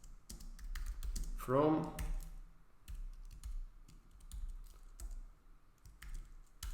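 Close, soft keystrokes of code typed on a computer keyboard tap out in irregular clusters, with a brief word of talk early on.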